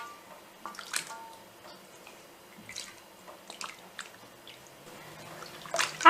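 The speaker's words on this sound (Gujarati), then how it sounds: "હવે તેને આપણે મસળીને ધોઈ લઈશું" Garmar roots being rubbed and washed by hand in a bowl of water for pickle, with soft scattered splashes, drips and squishy sloshes in a quiet room, ending in a louder splash.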